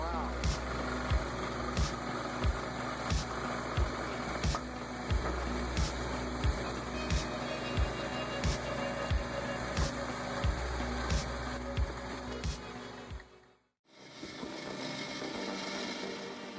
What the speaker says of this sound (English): When the log is pressed and pushed against the splitting blade frame, it creates the desired firewood pieces.